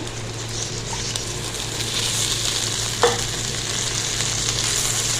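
Potato masala being stirred in a frying pan, with a steady sizzle and the scrape of a spoon, including one sharper clink near the middle; close and fairly loud, with no voices.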